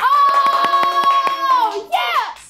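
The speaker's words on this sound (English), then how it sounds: "Applause!" About eight quick, evenly spaced hand claps ring out beneath a loud, drawn-out voice that holds a note and then breaks into a short excited cry.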